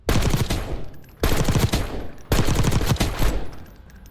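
Automatic rifle fire in Black Ops 6 multiplayer: three loud, sustained bursts of rapid shots, each lasting about a second, separated by brief pauses.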